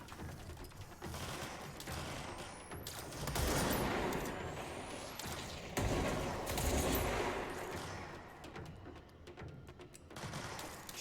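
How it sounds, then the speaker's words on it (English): Rapid bursts of video game gunfire crackle in dense volleys with mechanical clatter, moderately loud, rising and falling over a steady noisy background, during a control point match. "I heard gunfire."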